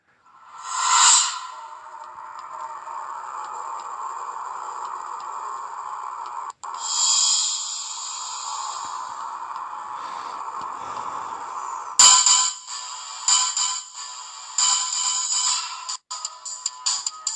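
First-person shooter video game audio from GoldenEye with electronic tones, whooshes and sharp bursts, a steady synthetic hum throughout and a cluster of abrupt hits toward the end.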